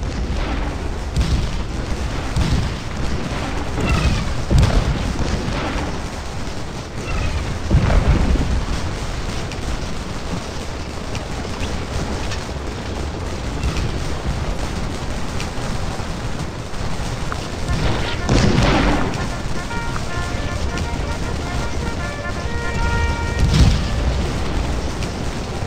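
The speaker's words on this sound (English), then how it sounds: "the Confederates are taking cover as they are under intense shell fire" Artillery shells boom and crash in the Gettysburg battle of Scourge of War, several heavy blasts rolling out every few seconds over a constant din of distant battle noise.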